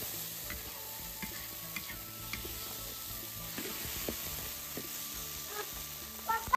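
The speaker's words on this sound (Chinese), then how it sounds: "爸爸炒牛最爱吃的豆豆" Beans stir-fried in a home kitchen sizzle steadily, with a spatula scraping and clinking against the pan in irregular strokes, close and continuous with no talk.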